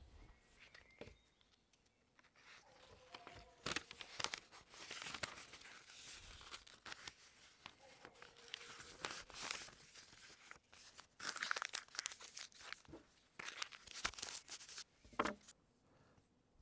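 Paper crinkles, tears and crunches as seedling pots are rolled and pressed with a paper pot maker, in a busy run of close, irregular rustles and scrunches with no talking.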